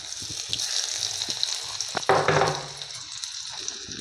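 Finely chopped ginger sizzles in hot oil as a tempering for bathua greens, with a steady frying hiss, a louder burst as the ginger hits the pan, and a few light stirring knocks.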